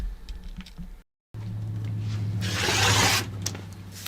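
Scissors or a rotary cutter slicing through a quilt panel of fabric, a close crisp scraping cut that swells into a louder rasping stretch before trailing off, after a short silent gap.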